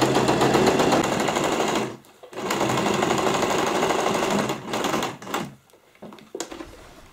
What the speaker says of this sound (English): go and do a top stitch on both the sides